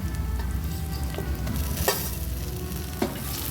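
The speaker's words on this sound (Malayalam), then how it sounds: "ഇത് നല്ലതുപോലെ ഇളക്കി കൊടുക്കുക ഒരു ബ്രൗൺ കളറാവുന്ന വരെ ഇളക്കി കൊടുക്കുക" Onions and tomato for a Kerala-style fish curry stirred as they fry in a pan, a steady close sizzle with a few sharper spoon scrapes against the metal, no voices.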